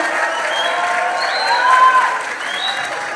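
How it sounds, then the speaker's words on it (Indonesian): An audience at a student dialogue event at Unitomo applauds to welcome a speaker, a loud, sustained wash of clapping from a crowd with a few cheers and whistles rising through it. "Beri tepuk tangan yang meriah untuk kita semua."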